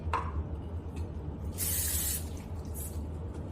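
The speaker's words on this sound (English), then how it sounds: "And then you're gonna use non-stick cook spray." Non-stick cooking spray hisses onto a pan on a stove in one bright, close burst of about half a second, followed by a shorter second spritz over a low background hum.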